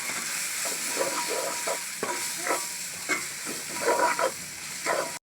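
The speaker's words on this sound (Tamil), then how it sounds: "இந்த மசாலாவை நல்லா மிக்ஸ் பண்ணிவிடுவோம்." Curry masala powder frying in oil as it is stirred, giving a steady soft sizzle and hiss with intermittent scraping and clatter from the stirring, heard close without voices until an abrupt cut near the end.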